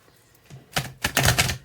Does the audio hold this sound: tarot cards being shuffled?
yes